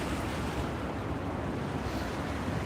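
Raging river water rushing beneath a railway line, a broad steady roar of flowing water with some wind buffeting, unbroken across the moment.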